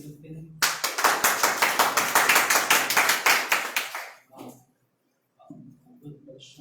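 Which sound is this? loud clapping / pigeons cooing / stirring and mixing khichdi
loud clapping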